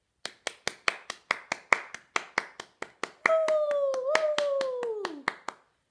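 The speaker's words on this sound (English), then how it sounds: "Should we give them a clap?" Hand claps in a steady, evenly spaced rhythm, about two per second, close and distinct, and partway through a voice joins with a long rising then falling whoop over the continuing claps.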